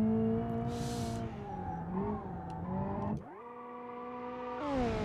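A Hirochi Mistral car in BeamNG brakes hard, with its engine tone dropping, a brief tire squeal and a short burst of skidding. The engine then revs back up and pulls away, heard close and clear.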